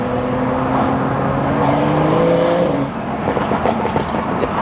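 BMW M235i with a VRSF N55 catless downpipe, its exhaust droning loudly with rising engine harmonics as it accelerates from inside the cabin, then easing off into lighter, burbling overrun after about three seconds.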